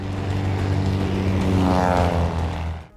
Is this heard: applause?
no